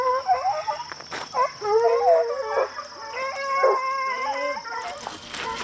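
Hunting hounds on a track on public land howl and bay together in long wavering cries, fairly close, with overlapping voices over a steady high background hum and faint human sounds.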